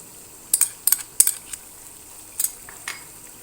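Onions fry in a pan as ginger garlic paste goes in for a meatball curry, with bright clinks and scrapes of a utensil against the pan over a soft, steady sizzle.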